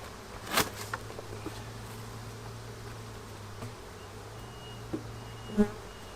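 Honeybees buzzing in a strong hive, a soft steady drone with occasional closer buzzes and light knocks and clicks of frames being handled.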